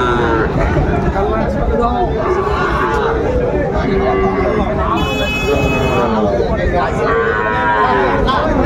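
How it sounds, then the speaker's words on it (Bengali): Sahiwal bull calves moo repeatedly at a busy cattle market in Ambari, the drawn-out calls rising over constant crowd chatter and nearby voices. "শাহিওয়ালের মধ্যে ষাঁড় বাচ্চা।"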